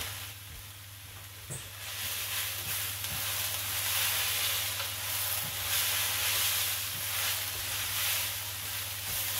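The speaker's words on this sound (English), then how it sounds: "See how it's frying much better now?" Steady, close sizzling of noodles and vegetables frying in a pan for chow mein, a continuous crackling hiss with a few soft knocks from stirring, no voices.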